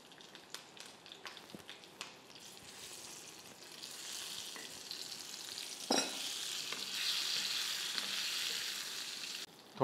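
Brinjal and curry leaves fry in a tempering with a soft steady sizzle that grows louder partway through. Scattered utensil taps and stirring scrapes sit on top of it, close by, with no voices.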